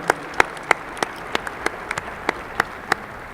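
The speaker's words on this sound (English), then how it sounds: "One more round of applause, folks." At a chamber of commerce awards gala, an audience claps for an award winner. A soft crowd wash runs under a dozen sharp, nearby claps at a steady, unhurried rhythm, with no speech.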